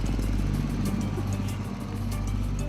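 A motorcycle engine hauling a rescued cow, humming in a steady low drone that stays close and loud throughout a brief stretch, with no speech over it.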